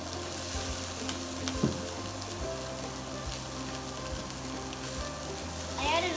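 Green pepper frying in a pan as a topping for NYC street-cart style halal chicken and rice, a steady close sizzle with occasional soft stirring scrapes and small clinks.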